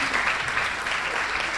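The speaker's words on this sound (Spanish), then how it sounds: "Un aplauso. Aplaudan," An audience at a talk session claps together in a sustained, even wash of applause, moderately loud and unbroken, with only faint traces of voices beneath the clapping.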